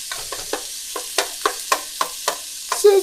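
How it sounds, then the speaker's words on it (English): Meat sizzles in a hot pan for steakhouse sweet spicy noodles, with a faint frying hiss broken by a regular series of sharp scraping stirs, roughly one every quarter second, close and clear with no talk. "Got that sizzle. That means it's just right."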